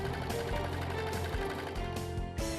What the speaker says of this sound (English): Serge off and clip your serger chain.